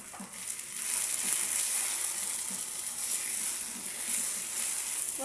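Meat sears in a pan with onions and tomato for Yemeni meat saltah, a steady bright sizzle with faint stirring taps, close and continuous with no talk.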